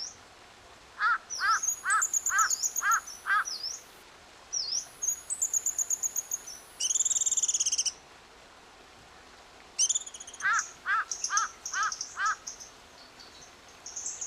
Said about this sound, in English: see if we can identify different types of bird sounds